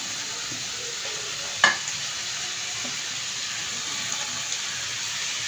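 Capsicum sizzles in a frying pan over a low flame, a steady, even hiss throughout with one brief clatter of the pieces going in.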